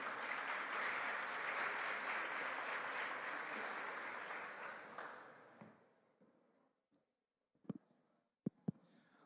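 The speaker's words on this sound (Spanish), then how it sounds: "Recibimos con un fuerte aplauso a nuestro conferencista." Audience applause greeting a speaker at an educational innovation conference, dense clapping for about five seconds that tapers off and fades out, followed by a few scattered bumps and near silence.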